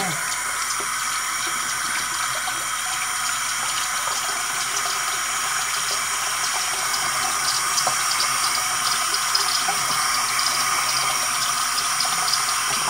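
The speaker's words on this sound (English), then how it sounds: "run hot water first" Hot water runs from a tap into a sink, making a steady, bright, continuous hiss that holds at an even level throughout.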